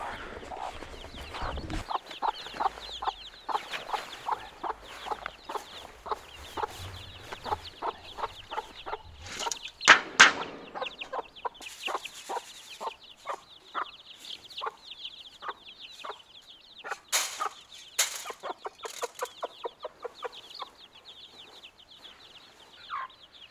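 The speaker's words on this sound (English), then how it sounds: "Now I'm on my way to give some feed to this mother with the newest chicks." A mother hen with newly hatched chicks on a farm in northern Sweden clucks in quick repeated bursts, close and steady. Chicks peep high and faintly around her, with a few louder squawks and rustles, and no talk.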